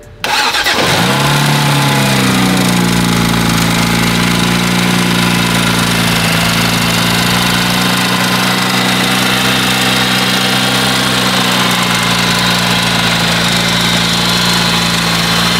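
A BMW 335is engine, brought back to life during a rebuild, cranks and catches, then settles into a loud, steady idle with a continuous low rumble that runs unbroken to the end.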